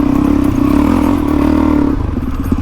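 Suzuki DRZ400E dirt bike fitted with a Cylinder Works 434cc big bore kit climbing a hill in first gear, a loud close engine roar that holds steady then shifts pitch, with rear wheel clatter and scrabbling.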